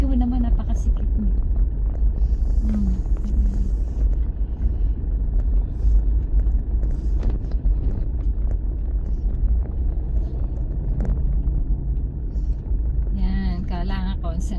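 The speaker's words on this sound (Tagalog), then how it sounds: "Yung truck na sa likod ko. Gusto niya mauna siya kung makakalagpas siya sa akin." Low, constant engine rumble of a truck climbing close behind on the steep, narrow Talisay zigzag road toward Laurel, Batangas, with wind buffeting and someone talking over it throughout.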